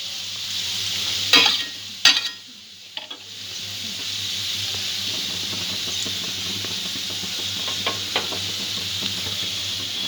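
Raisins fry in hot oil and are stirred, giving a few sharp scraping clatters early, then a steady close sizzle with faint crackles.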